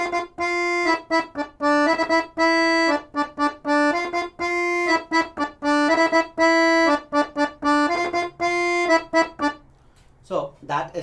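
Accordion playing a theme riff that was originally written for guitar, a loud, clear melody of short staccato and held reed notes in a steady rhythm, with a short speaking voice at the very end.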